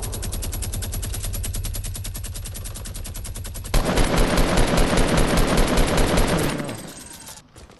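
Gunfire in a Fortnite match: rapid, sustained automatic shooting rattles on, switches partway through to a louder and denser burst of shots, then cuts off and fades near the end.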